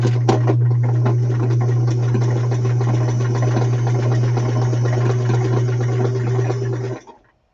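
A sewing machine runs continuously, stitching a zigzag on fabric with a steady, loud motor hum and rapid needle ticking, then stops abruptly near the end.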